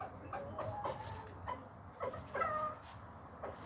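Soft, scattered clucks from a rooster in a farmyard, short irregular calls at a moderate distance against faint background noise.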